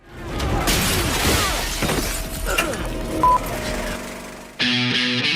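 A loud crash of breakaway movie-stunt glass rigged with pressurized charges shattering up close, with fragments tinkling and scattering afterward, then an abrupt electronic tone at the end.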